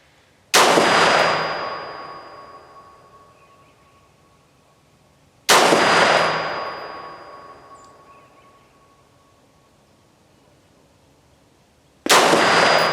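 Three loud, sharp rifle shots from a Brownell's Retro AR-15 prototype, each a sudden crack followed by a long ringing decay outdoors, spaced several seconds apart.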